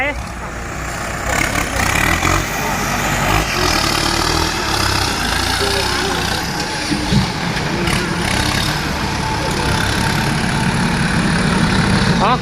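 A New Holland tractor engine idles with a steady, rumbling chug, close and loud for the whole stretch, while someone talks over it.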